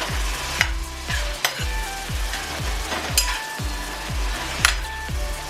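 Sausage and ground beef frying together in a pan for spaghetti meat sauce, a steady sizzle broken by repeated scraping stirs and occasional utensil clinks against the pan, close and loud with no talking.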